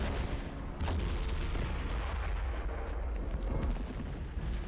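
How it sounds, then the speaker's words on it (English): Mortar shells thud and rumble in Men of War, heavy low booms layered in a continuous dense wash of battlefield noise. "So now I'm getting mortared."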